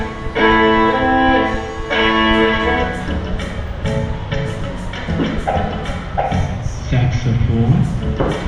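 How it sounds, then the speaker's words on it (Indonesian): A violin plays a short melodic passage of bowed, sustained notes, fairly loud and in the foreground, with no voice over it. "Violin atau biola."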